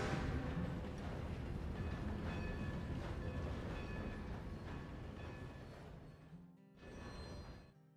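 Steam-era train running in Red Dead Redemption 2, a rumbling roll of wheels and carriage noise with faint rhythmic clatter, steady then fading near the end with a brief swell, no talk.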